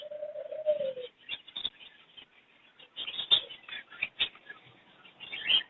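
Grey American fancy pigeons cooing in a pair at a Sunday bird market, a low drawn-out coo at the start followed by scattered soft coos, rustling and wing flutters nearby, with no talk.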